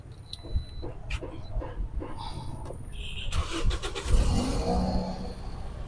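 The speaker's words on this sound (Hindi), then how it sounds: "ये गाड़ी को हम स्टार्ट करते हैं जी जी। गाड़ी स्टार्ट करके जरा दिखाइएगा।" A Toyota Corolla XLi is started in a showroom: a few clicks and a short cranking whir give way to the engine catching and settling into a low, steady idle, heard fairly close without talk.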